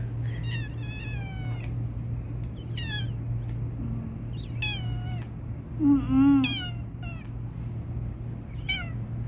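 A cat meows repeatedly in a yard, rising and falling cries spaced across the stretch, with a steady low hum in the background.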